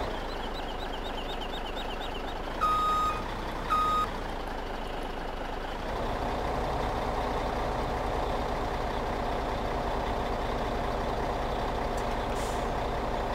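Heavily loaded eight-axle log truck in Farming Simulator 17 laboring up a rough dirt road, a steady low engine drone throughout, two short reversing beeps near the start and a hiss like an air brake.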